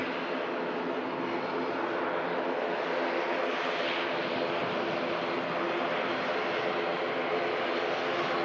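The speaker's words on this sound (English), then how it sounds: "who's got a great view of the Virgin Atlantic A330 pushing back" Virgin Atlantic Airbus A330 at Manchester Airport, a steady broadband engine roar and hiss holding at an even, moderately loud level throughout, with no clear speech.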